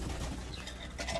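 Racing pigeons in a loft give soft, low cooing calls, close by and fairly quiet, over a constant background hum.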